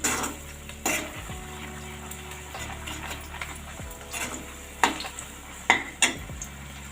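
Water poured into hot masala gravy for a moong dal pakodi curry hisses and sizzles in the pan, with intermittent spoon stirring and clinks against the pot, close by and without talk.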